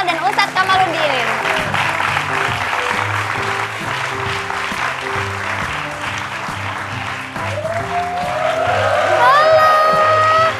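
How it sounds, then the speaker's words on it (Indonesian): Studio audience applause for guests on an Indonesian TV talk show, steady clapping blended with loud musical stingers and swooping sound effects that rise near the end. "Tepuk tangan buat Kaisa Aulia Kamal dan Ustadz Kamaluddin."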